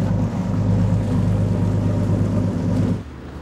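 Steady low rumble of a houseboat motor running on water, continuous and fairly loud, dropping off suddenly near the end as the motor is put into neutral.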